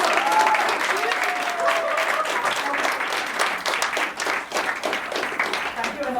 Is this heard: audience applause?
yes